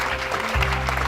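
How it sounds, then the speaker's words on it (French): Church congregation at an African leadership conference breaking into loud, sustained applause and cheering, a dense continuous wash of clapping that swells midway, with low musical tones underneath. "Acclamons très fort."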